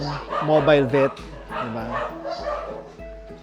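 A dog barks and yips in quick repeated bursts close by, with a whimpering tone, while a person talks over it during a mobile vet house call.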